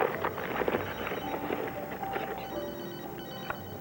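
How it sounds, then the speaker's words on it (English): A telephone rings indoors with a repeated electronic trill, moderately faint and steady behind muffled background noise. "My phone, excuse me."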